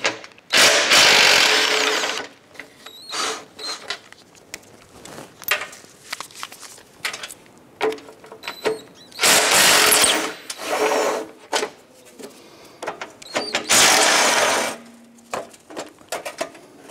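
A power tool whirs in several loud, short bursts, separated by quieter clinks and handling noises, while 15 mm bolts come off a fog light bracket on a 2011-2018 Dodge Ram 1500 front bumper.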